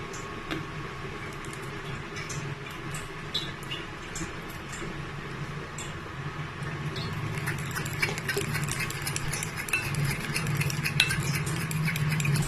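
Banana oat pancake batter with honey mixed steadily in a bowl, a continuous run of light utensil ticks and scrapes over a low background hum, growing a little busier toward the end.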